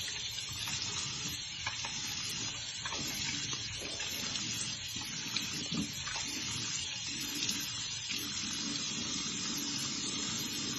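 Tap water runs steadily in a sink as a face is rinsed after skincare cleansing, a continuous close splashing hiss with no talking.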